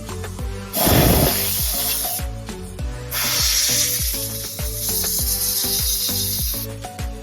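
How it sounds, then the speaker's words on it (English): A small pancake compressor blows compressed air in loud, hissing bursts, with a steady spray that swells and drops over a faint rhythmic clatter in the background. "Just a little pancake compressor."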